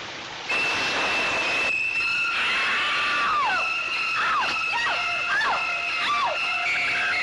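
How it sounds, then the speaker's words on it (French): High-pitched, scary screeching tones rise and fall in repeated shrieking sweeps over a sustained piercing whine, loud and harsh, with no talk. "On peut faire peur aussi en utilisant des sons très aigus."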